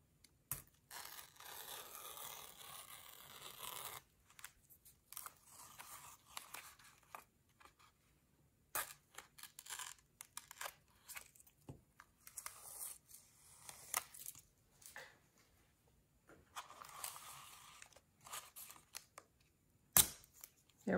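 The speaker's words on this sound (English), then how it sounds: "let's take the tape off." Masking tape peeling off a finished painting in irregular crinkly tearing strips, close and fairly quiet, with pauses between pulls.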